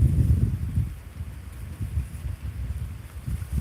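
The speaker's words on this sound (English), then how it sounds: "It's cold, rainy, and windy here." Blustery wind rumbles against the microphone in low gusts at a cold campsite, with a steady wash of rain beneath it, loudest at the start.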